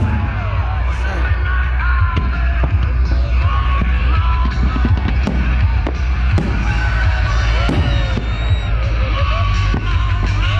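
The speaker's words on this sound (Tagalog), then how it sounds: "Ayan na ang fireworks." Fireworks burst over a beach on a cold winter night, frequent thuds and crackles from near and far under a continuous crowd roar with cheering and yelling voices.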